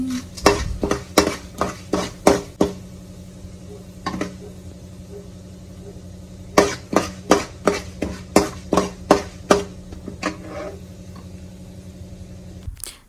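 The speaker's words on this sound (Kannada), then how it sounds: "ನೀಟಾಗಿ ಫ್ರೈ ಮಾಡ್ಕೊಳ್ಳಿ ಅದನ್ನು." A spoon scrapes and taps rhythmically against a pan while ingredients for uppit fry, sharp clinks in quick bursts over a faint steady sizzle.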